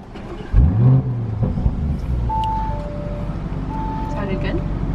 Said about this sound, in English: All right, we'll start the car up.